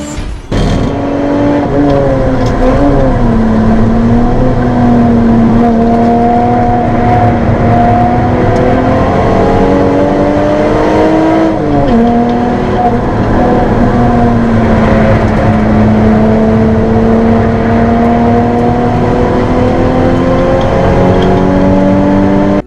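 A Mark 1 Ford Focus ST170 is driven on a track from the cabin, its engine loud and close, rising and falling with repeated revs and gear changes under steady road and wind roar, with no talking.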